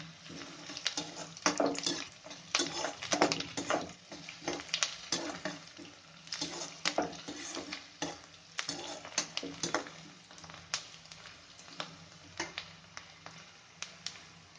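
Onions and curry leaves fry in a pan for vangibath gozzu, a steady crackling sizzle broken by frequent scraping stir strokes and clicks, close up and with no voices throughout.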